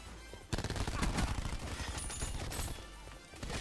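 Rapid automatic gunfire from a sniper's nest helicopter in the Black Ops 4 video game, loud continuous bursts with sharp cracks running through nearly the whole stretch after a brief quieter opening.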